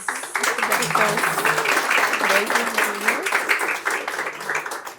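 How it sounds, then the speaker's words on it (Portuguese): Audience clapping at a book launch, a steady, fairly loud patter of many hands lasting several seconds, with voices and chatter mixed in underneath. "Palmas."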